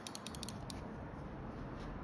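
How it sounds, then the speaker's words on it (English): Custom brake lever clickers on a bike give a quick burst of sharp, close ratcheting clicks, then a single click, over a steady background hiss. "Along with some custom brake clickers, you can get these from Soleo Supplies"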